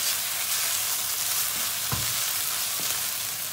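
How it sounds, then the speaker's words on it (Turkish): Onions sautéing over medium heat in a pan for onion stew, starting to caramelize: a loud, steady hiss of frying with a couple of soft thumps from stirring, no voices. "Orta ateşte kavurma işlemine devam edeceğiz"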